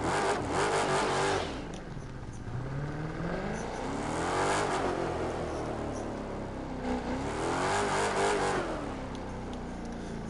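Chrysler SRT V8 engine revving in repeated swells, rising and falling in pitch as the throttle is blipped, loud and close with no talk over it.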